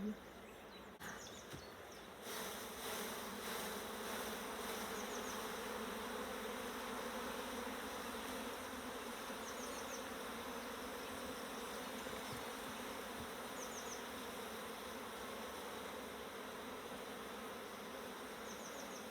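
A dense, steady drone of many bees buzzing close by, sustained and even throughout with no talking.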